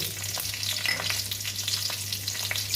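Steady, crackling sizzle of chilies and garlic frying in hot mustard oil, close up, with a constant hiss and scattered pops throughout.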